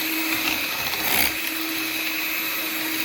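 A kitchen blender whirs steadily, close and loud, mixing a thick chocolate and peanut butter batter, its even motor drone swelling slightly for a moment midway before settling back.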